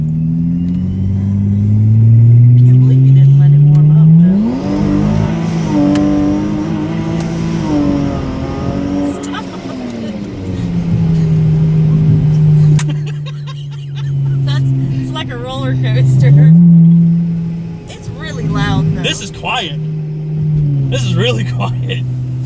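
A boosted car accelerates hard, its engine revving up in long rising sweeps, then easing and climbing again, loud and close from inside the vehicle, with people talking over it at times.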